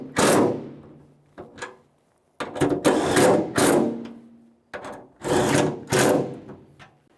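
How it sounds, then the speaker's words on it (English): Ratchet wrench tightening new 12 mm bolts on tailgate handle hardware of a 1999-2006 Chevrolet Silverado 1500, heard as several close, loud bursts of rapid clicking separated by short pauses. "Now while holding this up against the tailgate, we can tighten these up."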